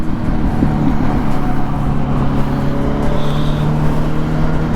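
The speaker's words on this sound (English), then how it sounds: "Traffic and tractor trailers, my favorite." Continuous loud road traffic, including tractor trailers, rolling past a motorcycle rider on a Yamaha R1 in November, with steady engine drone and low tonal hum and no talking.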